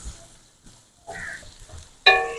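Beef frying in a pot for degi yakhni beef pulao, cooked to a light golden colour; a soft sizzle and stirring scrapes come in bursts, ending in a louder clatter of the spoon against the pot.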